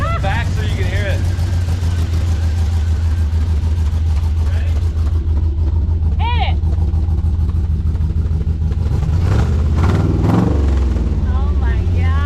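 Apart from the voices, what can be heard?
LS-swapped Jeep engine exhaust revving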